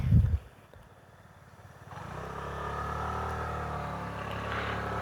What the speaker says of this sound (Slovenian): zdaj se kar motorista peljejo